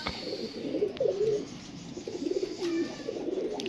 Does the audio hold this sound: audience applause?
no